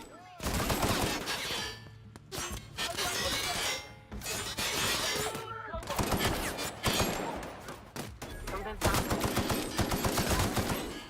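Dense bursts of gunfire and shattering impacts from the video game The Outer Worlds, rapid automatic volleys broken by brief gaps, loud and close, with occasional game voices underneath.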